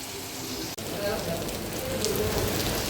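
Heavy rain pours down in a steady, dense hiss close by, with a brief dropout early on and the downpour growing slightly stronger toward the end.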